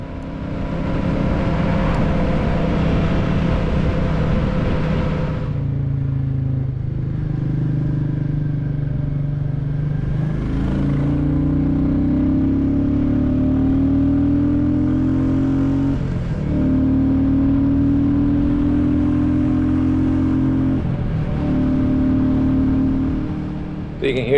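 A Royal Enfield Bullet 350 (2024 Classic 350) single-cylinder motorcycle engine running on a quiet country road, a steady loud drone with rising and falling pitch as it pulls through the gears, near and continuous with wind noise.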